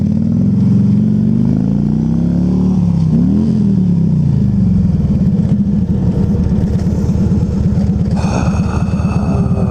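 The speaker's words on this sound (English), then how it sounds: "I put it in a neutral and revved it to impress the ladies" Small car engine revving hard while stationary in neutral, close and loud, pitch sweeping up and down before settling into a steady rattling idle, with a brief higher whine near the end.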